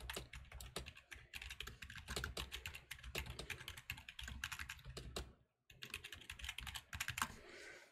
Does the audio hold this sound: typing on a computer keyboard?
yes